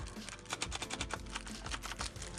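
Rapid typing on a Corsair K70 LUX RGB mechanical keyboard with polished steel top and Cherry MX Red switches, a dense, close run of crisp key clacks with no pauses and no voices.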